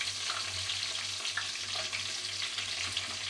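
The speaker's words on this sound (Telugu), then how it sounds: "వేసుకొని ఇవి కొద్దిగా ఫ్రై అవనిద్దాం." Spices fry in a pan for double beans pulao, giving a steady, close sizzle and crackle that stays level throughout with no talking.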